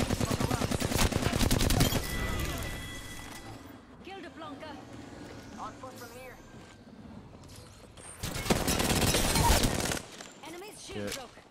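Rapid bursts of gold R-99 submachine gun fire from Apex Legends, loud dense volleys at the start and again near the end with a quieter stretch between, and someone talking over the shooting.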